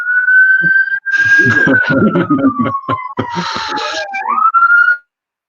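An ambulance siren wails steadily nearby, its tone sliding slowly downward as it passes and rising again at the end, while a person talks over it.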